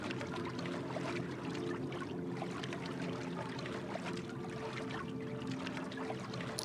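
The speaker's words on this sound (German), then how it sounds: "da kommt es mitten aus dem Wasser" Steady water flowing and trickling in the video game Garden Witch Life, where water pours from the middle of a mine being drained; a continuous, even wash with faint splashy detail and no talk.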